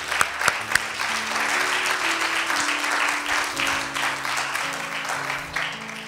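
A church congregation applauds steadily for about six seconds, a dense wash of hand claps with a few sharp louder claps at the start, while a sustained organ or keyboard chord plays underneath.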